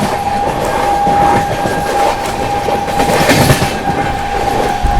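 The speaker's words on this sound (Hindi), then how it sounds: "अपनी गीतांजलि एक्सप्रेस ओवरटेक करने जा रही है महाराष्ट्र एक्सप्रेस को" The Gitanjali Express overtakes the Maharashtra Express at speed, producing a loud, steady rumble with rhythmic clickety-clack of wheels over rail joints and a thin sustained whine running underneath.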